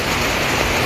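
Heavy rain pours steadily outside a house during strong wind, a dense, constant hiss of drops drumming on surfaces with a low rumble underneath, loud and unbroken with no voices.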